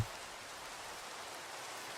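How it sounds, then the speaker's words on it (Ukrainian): Steady rain falls in Minecraft, a soft, even hiss that stays faint and unbroken for a couple of seconds with no other sounds. "Давайте подивимось з вами на дощ."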